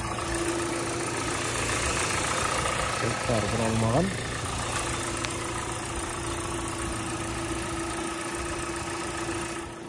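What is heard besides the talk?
Hyundai Sonata 2.0 petrol engine idling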